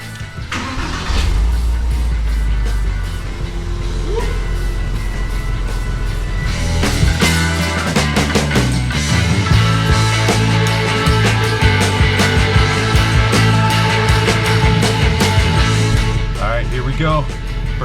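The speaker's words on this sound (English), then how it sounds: "So I'm gonna start up the car." A rebuilt, previously crashed Porsche Boxster fires up after welding work, then settles into a steady, close idle with occasional light revs while people talk over it.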